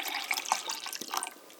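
Water pours from a kettle into a glass that already holds Gatorade Zero Sugar Orange mix, a close, steady splashing trickle over a short stretch with no talk.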